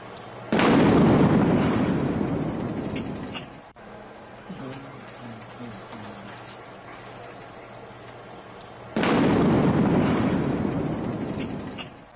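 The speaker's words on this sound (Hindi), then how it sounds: "एक के बाद एक धमाके यहाँ पर हुए हैं" Two bomb blasts go off near a Pakistani army checkpoint, each a loud, close boom with a long rumbling decay, about eight seconds apart, with a faint tonal hum between them.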